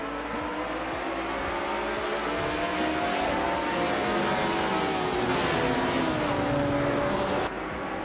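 A Mazda B0986 prototype in the LMP 900 class at Bathurst in a racing video game, its engine droning loud and steady with rising and falling pitch as it accelerates off the line among other cars, alone without talk.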